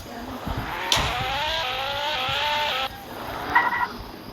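Racing car engine in a video game, wailing and revving through shifting pitch with tire squeal, a steady loud drone that cuts off abruptly before a short burst near the end.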